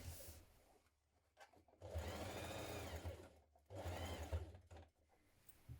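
A sewing machine stitches a seam on a tote bag in two sustained bursts separated by quiet pauses, fairly soft and close, with faint handling noise between runs.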